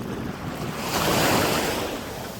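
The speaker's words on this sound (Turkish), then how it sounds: "JRB plajına giriyoruz." Waves break and wash steadily onto JRB beach, a continuous surf roar swelling slightly in the middle, with wind buffeting the microphone and no voices.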